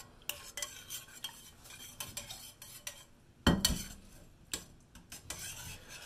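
A spoon stirring a jelly mixture in a bowl, giving close, irregular scraping and clinking strokes with one louder knock partway through, and no talk.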